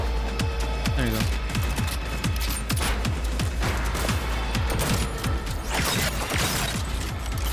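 Rapid gunfire in Cyberpunk 2077 as enemies are shot, a steady stream of close, sharp shots with mechanical rattles and clanks layered over game ambience, with a voice talking underneath.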